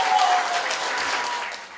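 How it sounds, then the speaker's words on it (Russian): A concert audience at a Russian folk song ensemble performance claps briefly with dense, even applause at a steady moderate level. "Мы должны слышать ваши аплодисменты"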